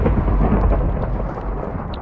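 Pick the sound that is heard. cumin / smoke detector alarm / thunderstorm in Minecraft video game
thunderstorm in Minecraft video game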